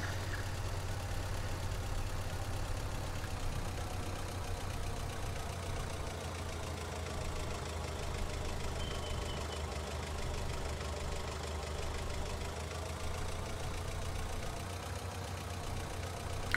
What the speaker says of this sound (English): I know I made the forklift heavier, but Lord, do I need to up the engine power?